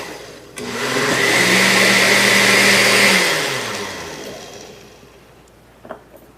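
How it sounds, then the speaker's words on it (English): A blender whirring kefir drink until smooth, switching on abruptly with a loud steady motor roar for a few seconds, then winding down and fading, followed by a brief clunk; no talk. "So I'm just going to pour this in the blender."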